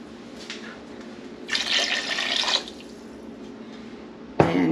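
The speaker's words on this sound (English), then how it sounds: "I'm gonna go ahead and get 1 more cup of water." Water runs into a cup in a home kitchen while cooking, a short splashing fill followed by quiet, then a sudden louder rush of liquid at the end; no one speaks.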